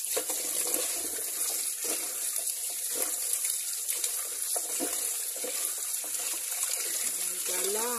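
Food, papaya and mushrooms, being washed under a running kitchen tap, a steady close hiss of flowing water with splashing and handling knocks, a voice faintly audible near the end.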